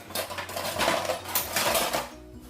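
A small spatula scrapes and peels firm piped icing nozzle shapes off greaseproof paper, giving close, light scraping and clinking contacts against a faint low hum, with no talking.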